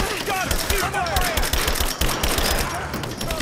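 Dense, continuous video game gunfire from Rise of the Tomb Raider, a loud fusillade of rapid shots and bursts with game effects and music beneath, steady throughout with no pause.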